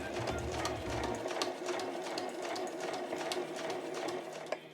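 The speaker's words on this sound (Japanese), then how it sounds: "この状態で際を縫います。" A sewing machine stitches along the edge of a fabric pochette, a quiet, steady whirring chatter of rapid needle strokes that runs without pause and ends with a small clunk.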